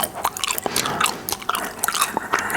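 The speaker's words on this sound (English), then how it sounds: "Just doing a gum chewing today." Someone chews spearmint gum (5 gum Rain) right up close, a dense run of wet smacks, clicks and bites with no pauses and no talking.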